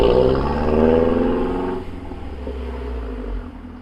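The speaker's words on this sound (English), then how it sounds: "let's have a quick look at what the Mazda 3 can sound like" Mazda 3 turbo car engine, a loud close rev that rises and then drops back to a lower steady drone, with no voices over it.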